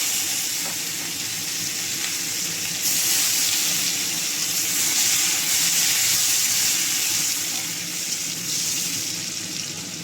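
Onion added to hot oil right after frying fish, giving a loud, steady, close sizzle that holds for about ten seconds and swells slightly midway; no voices.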